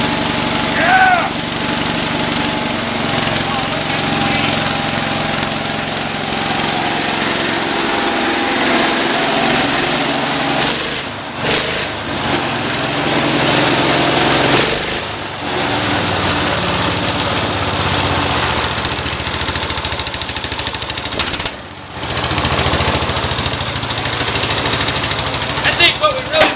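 A Cub Cadet 147 garden tractor engine runs after a cold start, a loud continuous mechanical drone with uneven surges, while people shout and talk excitedly over it throughout.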